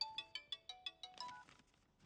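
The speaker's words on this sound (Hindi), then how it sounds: "फोन की घंटी बज रही है।" A phone rings in a Hindi-dubbed action film, a rapid series of bright electronic chirps repeating about every fifth of a second, clear and close, then trailing off into a softer tail with no voices.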